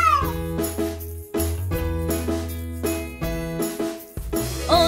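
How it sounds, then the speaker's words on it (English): Sung cat meows run through a children's nursery rhyme about a farm, several tonal meow-like calls with jingling backing music, loud and close. "The cat says meow."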